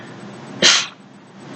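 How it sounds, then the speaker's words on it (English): A single loud, sharp human sneeze bursts out close to the mic, lasting about a quarter second over a faint steady background hum, with no talking around it. "There was so much math in this sneeze"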